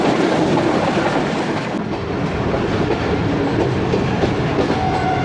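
The Mehran Express train runs on rails in Pakistan: a loud, steady rumble of wheels and carriages with faint rhythmic clickety-clack, heard close and continuous throughout.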